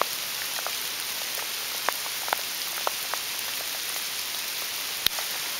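Hailstones bounce off the ground during a spring hail storm on Salt Spring Island, making scattered sharp clicks and ticks over a soft, steady patter as the hail piles up outdoors.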